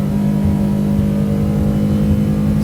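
A 200 Pro outboard motor on a Hewescraft boat holds a steady cruising rev near 4,800 rpm, a loud continuous drone with a strong low hum that never lets up.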